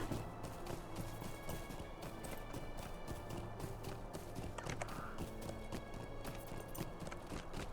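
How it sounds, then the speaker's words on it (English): In the online game Lord of the Rings Online, a horse gallops with quick, even hoofbeats, a continuous rapid clip-clop at steady volume throughout. "Let's just get on our horse and get out of here."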